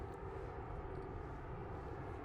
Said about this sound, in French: Un avion passe.